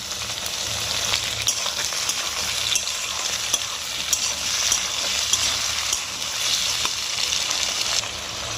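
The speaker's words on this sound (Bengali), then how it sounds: "এখন আমি একটু বেশি করে ভেজে নিচ্ছি" Onion frying in oil in a pan, cooked a little longer before potatoes go in for a fish-head cabbage dish; a steady, close sizzle with light stirring crackles runs throughout, no voices.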